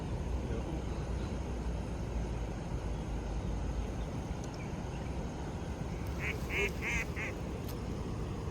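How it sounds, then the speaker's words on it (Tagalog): A few short quacks from a duck by a river stand out over steady, loud rushing water or wind that fills the background throughout. "May pato mga idol. May pato."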